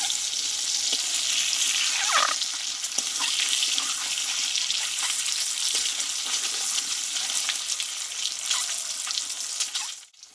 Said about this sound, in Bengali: দেখো ডিমটা কিন্তু এক ভাজা হয়ে গেছে উল্টিয়ে নেবো